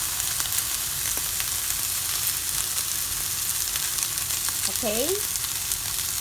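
Oil in a hot pan with pepper gives a steady, even sizzle and crackle throughout, close and continuous, with a brief spoken word near the end.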